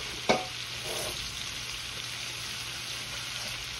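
Shrimp scampi frying in a skillet, a steady soft sizzle with a sharp clink at the start and a brief stirring scrape.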